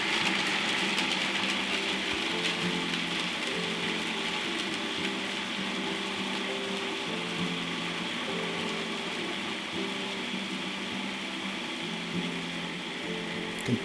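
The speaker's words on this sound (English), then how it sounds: "Blend the whole thing up. Get it to just the right consistency." A blender purees almond pesto made with nuts, giving off a steady, fairly loud motor whir with a droning mechanical hum that holds level throughout, with no talking.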